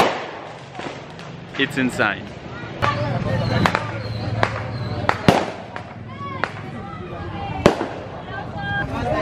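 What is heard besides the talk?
fireworks exploding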